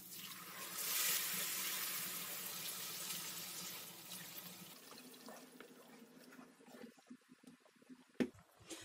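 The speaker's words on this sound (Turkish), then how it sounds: "Şimdi de üzerine 4 bardak kaynar su ekliyorum." Four glasses of boiling water pour into a pot of rice with currants, a steady rushing splash that tapers off into scattered drips and small clatters near the end.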